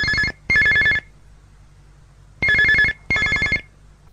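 A telephone rings as a radio drama effect, sounding a classic double ring twice, with each pair of bright, loud trills separated by a pause.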